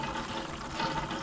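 Water from a village tubewell pours steadily into a bottle, a continuous close splashing rush with no talk.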